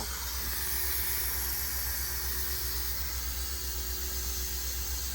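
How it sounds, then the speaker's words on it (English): Steady hiss of steam venting from a pressure cooker cooking mondongo (tripe), a loud continuous broadband rush with a low hum underneath, unbroken for the whole stretch. "now we'll wait for all of the pressure to release"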